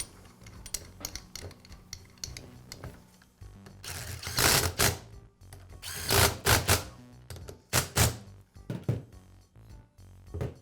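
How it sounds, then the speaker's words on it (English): Bolts are driven in while reinstalling the pump on a Karcher pressure washer, with rapid ratcheting clicks and bursts of tool whirring in short spurts, close up, separated by quieter handling noises. "And now I can install the other 2 bolts."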